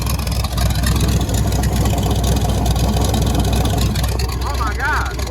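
A burnout truck engine roars loudly and continuously with a deep rumble, its flywheel spinning, while excited voices shout over it.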